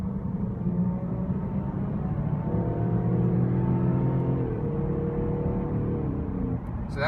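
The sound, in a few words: 2015 Range Rover Sport HSE V6 accelerating hard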